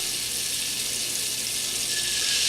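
Beaten eggs poured into a pan of melted butter give a steady, close liquid pouring and splashing hiss, continuous for the whole stretch with a faint sizzle underneath.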